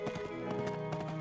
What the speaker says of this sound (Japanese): 馬は蹄の音が宙で鳴るほど早く飛んでくる